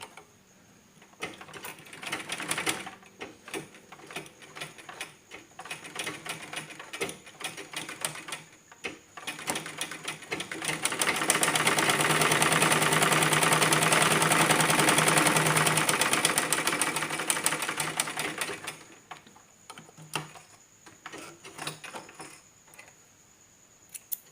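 A domestic sewing machine stitches a seam in a basic beginner lesson, its whirring mechanical run swelling loud and steady at the middle and rattling more intermittently before and after, with no talk.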